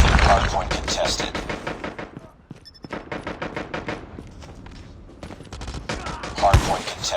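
Rapid shotgun blasts and automatic gunfire in a first-person shooter hardpoint match, dense bursts of shots with brief gaps, loud and close, with game voice callouts mixed in.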